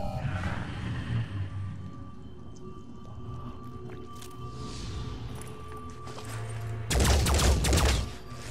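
Gunfire in the tactics video game Phoenix Point, a loud burst of rapid shots lasting about a second, standing out over a low, murky background hum.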